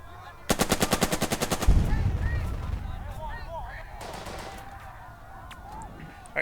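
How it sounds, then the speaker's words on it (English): Machine gun bursts in the Burden of Command World War II video game, a loud rapid string of evenly spaced shots followed by a lingering rumble and a second, fainter burst further off. "Let's go ahead and fire again."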